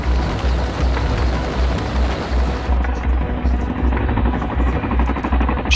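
A Boeing CH-47 Chinook tandem-rotor helicopter drones overhead with a steady, heavy rotor thrum and buzzing whine, loud and continuous with no voices.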